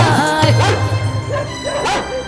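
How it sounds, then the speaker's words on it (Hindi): A dog barks and yips in short, loud bursts near the microphone, with whimpering cries that rise and fall in pitch and a steady low hum underneath. "ये कुत्ता मन लगाकर भौंको ही जा रहा है, भौंको ही जा रहा है।"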